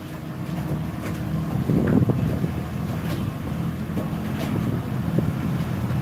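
A sailboat under way, with steady wind noise buffeting the microphone over a continuous wash of water against the hull, loud and unbroken throughout.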